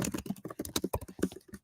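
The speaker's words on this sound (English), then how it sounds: "we can hear you typing" Typing on a computer keyboard, a rapid irregular patter of close, crisp key clicks with no voices.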